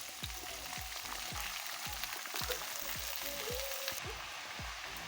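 Pumpkin greens frying in a pan, a continuous close sizzle with a regular series of spatula scrapes and strokes roughly every half second, no talking.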